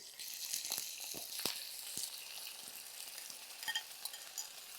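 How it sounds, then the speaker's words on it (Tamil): Marinated prawns and crushed onion fry in a pan for a Kerala prawn fry, with a quiet bright sizzle punctuated by repeated scraping and clacking stirs. "பேன்லேயே ஃப்ரை பண்ணிடுவோம்"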